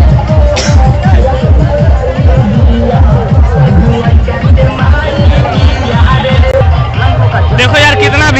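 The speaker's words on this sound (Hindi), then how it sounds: "देखो यार कितना भीड़ है" Dense crowd hubbub at a village fair (mela) during an Indra Puja celebration, loud and constant, with overlapping voices and chatter filling the whole stretch and no single voice standing out.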